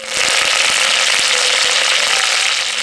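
Mustard seeds and curry leaves frying in two spoonfuls of hot oil for garlic rasam, a loud, steady sizzle with dense crackling and scattered sharp pops throughout.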